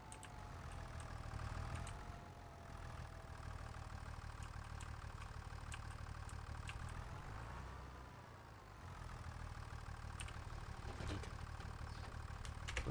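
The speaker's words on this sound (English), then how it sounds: "let's go ahead and shut the engine off" An engine idling steadily at a low, even rumble before shutdown, continuous and fairly distant with no talk.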